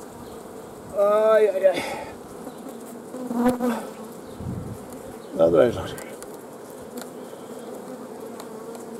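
Honeybee swarm colony buzzing around heavy hive frames: a steady hum of bees under the beekeeper's Romanian talk, which comes in short bursts.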